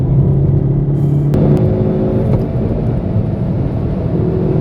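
A Hyundai Veloster N with a manual gearbox driving on a racetrack, its engine a steady loud drone heard from inside the car with a couple of short clicks.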